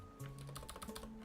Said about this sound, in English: It does catch that sound of me typing